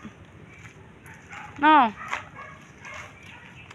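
A dog lets out a single close yelping bark with a rising whine, amid quiet outdoor background and brief speech.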